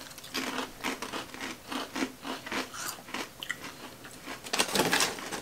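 Crispy Filipino cheese snacks are crunched close to the mic in a quick series of sharp, dry bites and chews. The crunching grows louder near the end.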